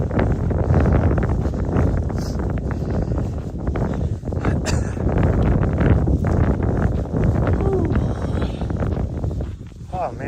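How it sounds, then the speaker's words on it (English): Cold wind buffets the microphone during a daytime trail run, a loud, continuous rumbling roar that swells and dips throughout. "this wind is cold"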